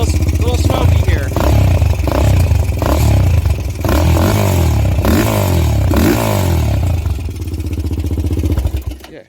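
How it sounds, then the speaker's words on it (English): A Honda 400EX quad engine revs hard while still cold, loud, close and rising in repeated bursts with clattering, then dropping off at the end. "start your quad and rev the hell out of it while it's ice cold"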